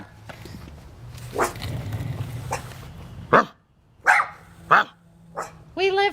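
An angry dog barks in several sharp, loud bursts near a residential house, spaced unevenly over a low background hum, with a faint voice early on.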